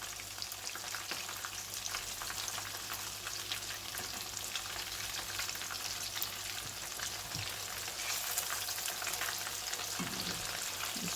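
Breadcrumbed fish goujons sizzle and crackle steadily in a frying pan as they are turned, a continuous fizzing hiss broken by occasional soft scrapes, with no talking.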